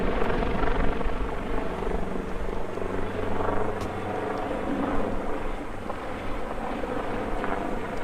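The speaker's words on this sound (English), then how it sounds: "So helicopters are dropping water on our ridge right now." A firefighting helicopter drones steadily with a throbbing rotor rumble while dropping water on a ridge in the Palisades, mixed with wind buffeting the microphone, sustained throughout.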